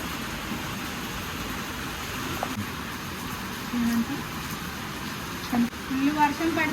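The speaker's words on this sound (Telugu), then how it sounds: "ఫుల్ వర్షం పడుతుందండి" Heavy rain pours down at a farmhouse, a steady broadband hiss of falling water throughout, with a few faint voices and brief bumps rising above it.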